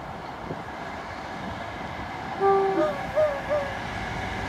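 A light Class 47 locomotive passes the Winthorpe level crossing. A low rail rumble runs throughout, with a few short, clear horn tones partway through.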